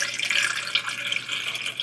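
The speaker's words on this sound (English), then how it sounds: "I'm going to fill the tank with some water" Tap water runs steadily into a film developing tank for a pre-wash before processing Fomapan film, a continuous close hiss and splash with no voices.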